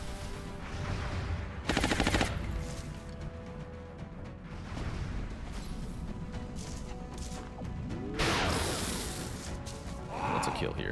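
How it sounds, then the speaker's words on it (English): Suppression fire in XCOM: Enemy Unknown: two bursts of rapid game gunfire, one early and a longer one near the end, with crashes and mechanical clatter between them and a voice talking over the action. "Fine, Enemy then. suppression fire."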